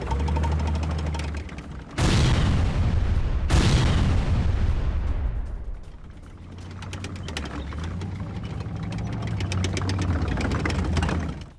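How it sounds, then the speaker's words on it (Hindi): An anti-tank guided missile strikes an M113 armored vehicle in a war zone: two sharp, loud blasts a second apart roll into a long rumbling roar, over a steady engine-like drone. "रूस का एंटी टैंक गाइडेड मिसाइल हमला M113 आर्मर्ड व्हीकल इसका निशाना बना है"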